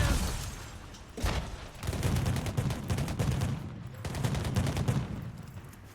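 Gunfire in Cyberpunk 2077: Phantom Liberty: sustained automatic fire in dense volleys with short gaps, loud and close, with heavy booming impacts mixed in and no talking.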